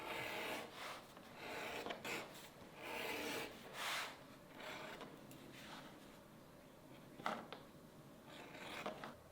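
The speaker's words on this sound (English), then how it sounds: "I go ahead and get my edge beveler and bevel all the edges on both sides." An edge beveler shaves the edges of a leather cuff bracelet in a series of close, soft rasping strokes, several short scrapes in uneven rhythm with small pauses between them.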